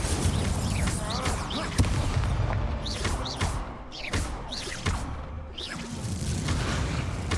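Incendio fire spells crackle and burst in Hogwarts Legacy amid a dense, continuous din of repeated booms, whooshes and combat impacts, loud and close throughout.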